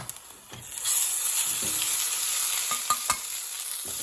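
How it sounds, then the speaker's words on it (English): Chicken masala sizzles steadily in a hot pan with ginger garlic paste, a constant close hiss broken by a few scraping stirs. "So it's sizzling away."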